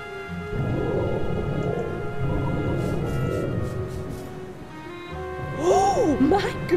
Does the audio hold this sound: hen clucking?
no